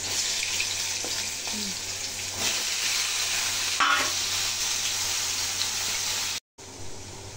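Panch phoron spices sizzle in hot oil with a steady, close frying hiss and a few light stirring touches, broken by a brief gap near the end.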